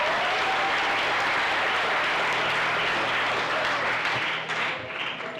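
Steady audience applause for a marimba band at a South African National Parks Week launch in Marakele National Park, dense and sustained throughout and easing slightly at the end.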